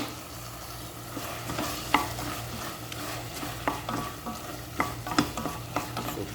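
Hotdog and shrimp are stirred in a hot pan, with a low sizzle running underneath and repeated close scrapes and taps from a utensil against the pan in an uneven rhythm.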